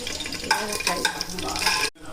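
Whole spices, cinnamon, clove and fennel, sizzle and crackle in hot oil for mutton biryani, a close, steady frying hiss with brief stirring scrapes that cuts off abruptly near the end.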